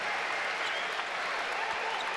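A basketball arena crowd claps steadily and loudly for a player leaving the game, a dense, even wash of applause with no break throughout.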